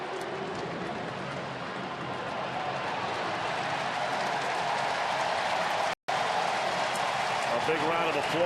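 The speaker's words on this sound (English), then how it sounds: "A big round of applause out on the big screen in left field" A stadium crowd applauds and cheers at a Brewers-Reds baseball game, a dense, steady wash of clapping and roar from a large audience with faint voices mixed in and a momentary dropout midway.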